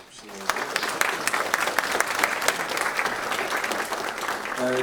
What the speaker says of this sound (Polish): Brawa tutaj.